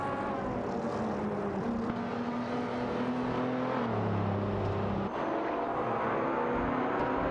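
Racing cars in a video game, a Chevrolet Corvette C7 GS battling a McLaren 540C, drone along with steady layered engine tones that shift pitch as they jostle, sustained and fairly loud with no talk.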